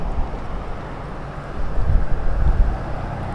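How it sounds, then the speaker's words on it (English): Rumbling wind buffets the microphone, a low steady roar that gusts stronger toward the end, with no speech. "It got very windy all of a sudden."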